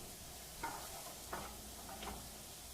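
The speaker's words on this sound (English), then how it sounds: "And you're constantly stirring." Onions caramelizing in a non-stick sauté pan are stirred in three quick, faint scrapes spaced about evenly, over a low sizzling hiss.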